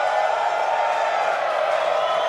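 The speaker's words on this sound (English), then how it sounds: "And a lot of cheering here in Hawthorne." A large crowd cheers and whoops steadily at a watch gathering in Hawthorne during the countdown to a SpaceX Starship Super Heavy rocket launch, a continuous dense roar with no breaks.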